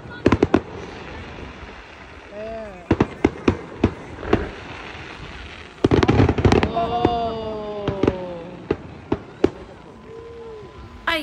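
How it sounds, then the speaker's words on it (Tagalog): Canada Day fireworks bursting in strong wind at a family gathering in Grande Prairie, a string of sharp loud pops and crackles with some whistling streaks, separated by short gaps, while people talk nearby. "kaya yung ibang mga fireworks hindi po siya pumuputok ng maganda"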